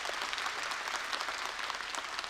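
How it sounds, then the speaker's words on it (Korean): A church congregation gathered for an early-morning autumn revival service applauds steadily, a dense, continuous patter of many hands at moderate distance with no voices over it. "우리 하나님께 영광의 박수를 올려드리겠습니다"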